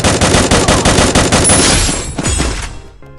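Automatic gunfire in the video game Free Fire: rapid, loud, evenly spaced bursts of shots close by that stop abruptly, followed by a short tail of fading echo.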